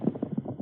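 Horse hooves clip-clop in a quick, even rhythm of about six or seven muffled beats in a vintage radio drama, with a narrow, old-broadcast tone.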